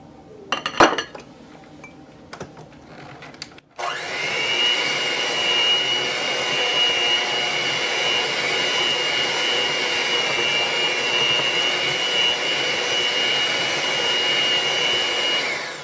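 An electric hand mixer whirs steadily through cheesecake batter with an egg added, a continuous close motor drone running about twelve seconds after a few clinks of bowl and utensils at the start.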